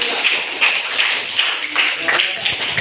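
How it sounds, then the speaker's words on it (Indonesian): A classroom group claps for a group of student presenters, a rhythmic patter of hands from a small gathering, fairly close and bright, repeating in quick bursts. "Tepuk tangan untuk kelompok"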